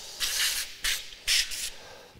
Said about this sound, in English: spray the chunks